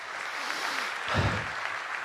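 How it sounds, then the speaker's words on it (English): A television studio audience on Fox and Friends claps, a faint, continuous patter of applause with a slight low swell near the middle. "Look at the boomers clapping."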